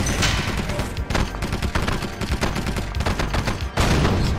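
Dense battlefield gunfire from the Red Alert 2 strategy game as a base comes under attack, with rapid overlapping machine-gun and rifle bursts rattling loudly and continuously, briefly thinning before resuming.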